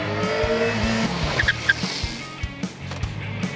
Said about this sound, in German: Auf trockenem Asphalt erfolgt die Bremsung aus 60 km pro Stunde, auf nassem Asphalt aus 30 km pro Stunde.